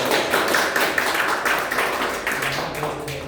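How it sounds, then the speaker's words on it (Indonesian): A class applauding for a student named Grace, dense steady clapping filling the room without a break, loud and close throughout. "beri tepuk tangan untuk Grace"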